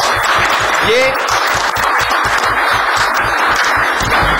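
An audience at a welcome event in the House of Lords, London, applauds Senator Shahi Syed with continuous dense clapping throughout, loud and close, while a voice carries on over it.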